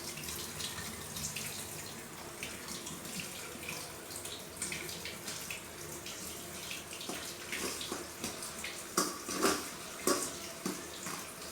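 Water drains out of boiled rice in a village kitchen, a continuous close trickling pour that swells into louder gushes toward the end.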